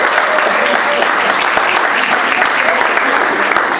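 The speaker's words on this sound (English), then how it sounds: "let's give a big round of applause to Reggie and the wine program and culinary." Steady, dense applause from a campus audience honoring a college wine and culinary program fills the room, loud and continuous with no pauses.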